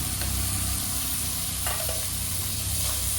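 Winter vegetables with tomato, peas, chopped ginger and green chili fry in a pan for upma, a steady loud sizzle with a few stirring scrapes over it, close up and with no talk.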